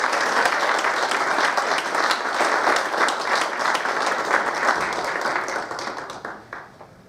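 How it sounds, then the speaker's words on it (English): Sustained applause from the audience for graduates at a university graduation recognition ceremony, a dense even roar of many hands that fades toward the end. "Let's give all our graduates one big round of applause."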